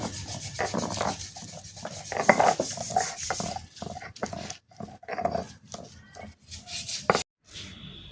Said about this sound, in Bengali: এবার কিন্তু আমি রসুনটাও বেটে নেব।